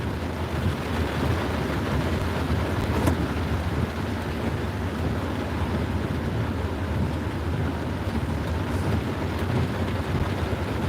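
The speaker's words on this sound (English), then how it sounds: "I know you hear thunder." Low, continuous rumbling of thunder during a thunderstorm, broad and steady for the whole stretch, mixed with wind and rain-like hiss and no voices.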